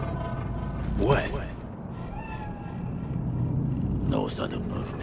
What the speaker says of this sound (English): Do you see it? That cat? Fine-looking feline.